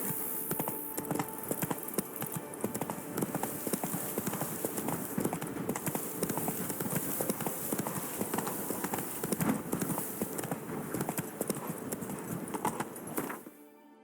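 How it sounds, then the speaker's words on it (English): Hooves of a horse gallop in The Witcher 3, a fast, steady clip-clop close by that runs throughout with a faint rustle of gear and wind. The sound stops abruptly at the end. "Run, Roach"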